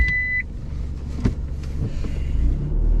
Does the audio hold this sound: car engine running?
yes